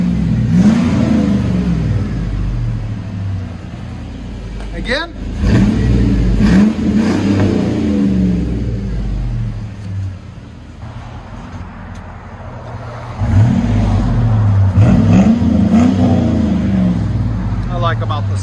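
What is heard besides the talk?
GMC Sierra 5.3L V8 revving, Flowmaster Flow FX exhaust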